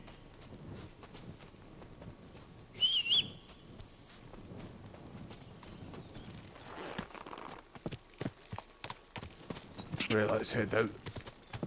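Horse hooves clip-clop in the medieval open-world video game Kingdom Come: Deliverance II, soft rhythmic steps mixed under game ambience and someone talking, with louder bursts near the end.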